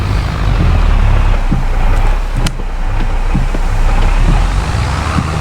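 Tractor engine in Farming Simulator 22, clearing snow in winter: a loud, steady low-pitched engine drone continues throughout with small fluctuations and no speech.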